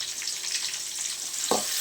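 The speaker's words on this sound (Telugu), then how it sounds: "ఇప్పుడు తెల్లగడ్డ అండ్ ఎర్రగడ్డ ముక్కలు కూడా వేసేసి" Garlic and onion pieces sizzle steadily in hot oil with mustard seeds in a pan, a continuous bright frying hiss with a brief louder spatter near the end, no talking.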